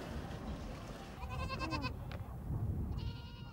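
Goats in a herd in the Alashan desert region bleating twice in quick succession, a wavering cry followed by a shorter one, moderately close over steady wind and ambient noise.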